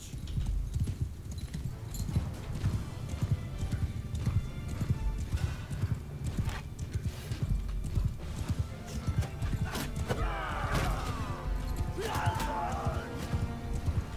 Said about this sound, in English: Horse charge! Cavalry charge!